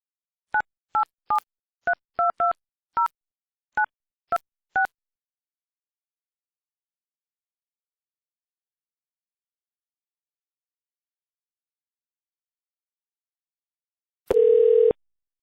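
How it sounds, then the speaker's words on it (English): A phone number is keyed in on a website's calling interface: a quick series of separate DTMF beeps, then a long silence and a brief steady dial tone near the end, clean with no voices. "There select country and then dial the number you want to call."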